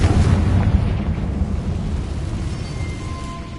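Confringo blasting spell exploding in the Hogwarts Legacy video game: a deep rumbling blast that booms loudest at the start and slowly fades into a low rolling roar.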